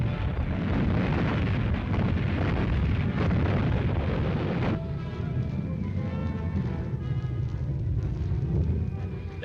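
Oil tanks exploding during a 1941 British commando raid, a continuous heavy roar and rumble of blasts and fire that drops slightly in intensity halfway through, with a grainy archival quality.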